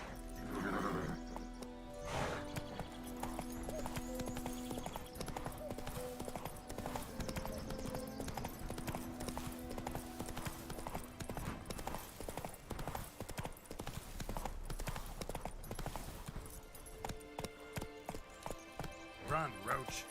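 Roach, the horse in The Witcher 3, gallops with rhythmic clip-clop hoofbeats under game music and sound effects, with a whinny and occasional speech mixed in.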